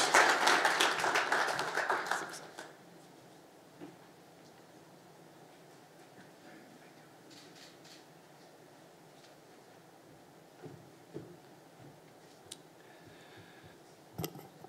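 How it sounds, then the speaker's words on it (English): Audience applause at a RoboFest and First Lego League event, a short burst of clapping that dies away after about two seconds, followed by quiet room tone with occasional faint taps. "How about a big round of applause?"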